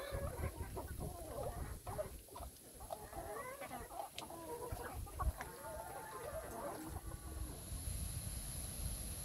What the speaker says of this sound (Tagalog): lahat ng manok dito sa Bukid